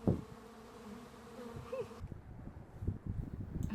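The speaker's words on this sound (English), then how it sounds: "There's loads of bees." Honeybees buzz around an open beehive, a steady low insect drone under brief handling noises and soft knocks as frames are moved.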